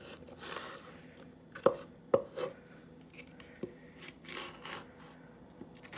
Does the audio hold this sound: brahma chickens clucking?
no